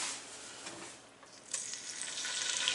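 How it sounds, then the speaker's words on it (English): Nutria meat sizzles faintly in an enamel cast iron pot, a soft steady crackle with a brief brighter burst partway through and no talking. "Hear that sizzle."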